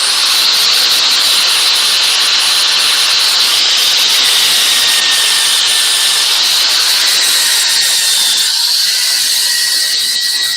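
Steady, loud abrasive rubbing of 120 grit sandpaper continues without pause, a dense close-up scratching hiss.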